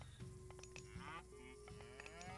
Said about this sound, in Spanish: Vacas encontré bastantillas.